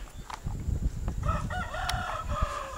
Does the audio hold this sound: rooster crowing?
yes